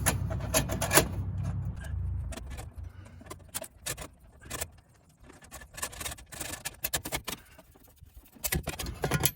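Phillips screws being backed out of a metal plate beneath a GM squarebody truck steering column: close, irregular scraping, rubbing and metallic clicks in short bursts, with no talking.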